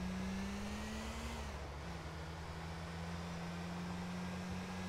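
Range Rover Evoque mod in the video game GTA IV, its engine droning steadily as it accelerates, with a rising then dipping tone that settles into a constant hum, loud and alone with no talk.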